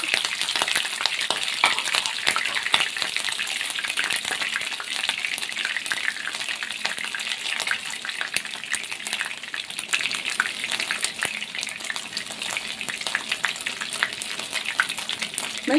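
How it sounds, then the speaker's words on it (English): Sausages frying in hot oil, a dense, steady crackling sizzle that runs unbroken and fairly loud throughout, with no voices over it. "The oil has heated up, and I'm going to be placing the sausages in here carefully."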